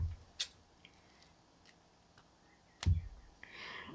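Scissors snip beading thread in two sharp, close clicks, one early and one near the end, with a small rustle after the second cut and quiet pauses between.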